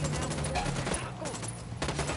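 Rapid gunfire rattles continuously in a video game firefight at a cartel base, dense and steady throughout the short stretch.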